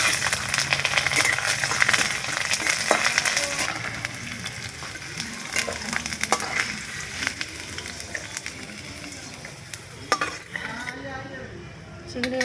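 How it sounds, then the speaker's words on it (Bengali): Garlic sizzles in hot oil in a kadai after chillies have been fried, a continuous crackling fry with occasional clinks of a spoon or pan rim. "এবার রসুনটা ভাজে নেই।"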